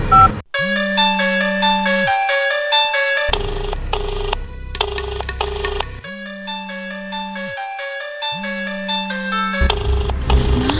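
A phone ringtone plays loudly and close, a repeating electronic melody of bright tones that runs continuously, with a low buzzing vibration pulsing beneath it in several bursts.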